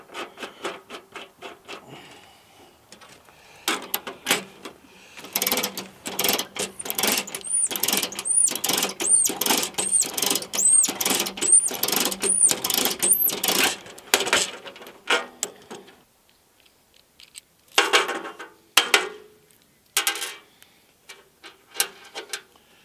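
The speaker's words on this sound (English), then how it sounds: "This is a 1/2-inch conduit punch." A 1/2-inch conduit knockout punch is cranked through the metal panel of a Generac home backup generator, giving a long run of close, rhythmic ratcheting clicks and creaks, then a pause and a few more scattered clicks.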